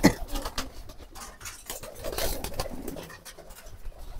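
Pigeons on a pigeon farm being given food, with soft close pecking, patter and rustling plus occasional low cooing and wing movement, busy and irregular throughout.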